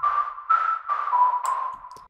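A smooth synthesized whistle holding one steady pitch in a few sustained phrases, with a reverberant tail that makes it sound spacious.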